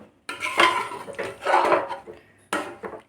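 Mutton curry is stirred in a metal pot, a spoon scraping and clinking in a few bursts, followed by the sharp clank of a lid being set on top, close and loud with no voices.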